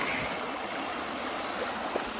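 Ice-cold creek water flows steadily and evenly throughout, a close, continuous broadband rush with no voices over it.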